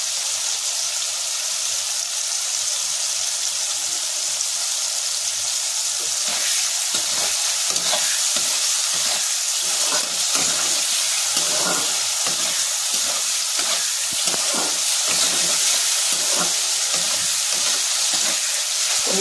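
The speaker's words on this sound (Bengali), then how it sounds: "পনির আর টমেটো একসাথে একটু হালকা ভেজে নেব" Paneer and tomato fry together in a pan with a steady, close sizzle, broken by repeated scraping stir strokes through the second half; no voices.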